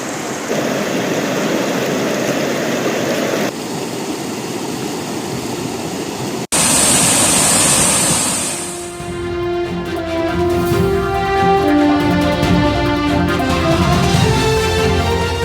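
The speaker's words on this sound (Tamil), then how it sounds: "கனமழையால் தருமபுரியில் உள்ள சின்னாற்றில் ஆர்ப்பரித்து செல்லும் தண்ணீர்" Loud, steady roar of the Chinnar river in Dharmapuri rushing after heavy rain fills the whole stretch, with a sharp change partway as the churning flow grows brighter and more turbulent.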